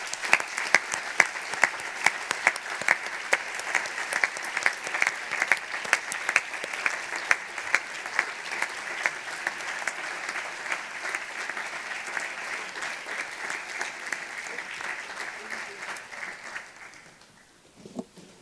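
Sustained applause from an audience at a Model UN closing ceremony, honoring the Historical Security Council delegates; steady, dense clapping with a few louder claps, holding for about sixteen seconds before tapering off.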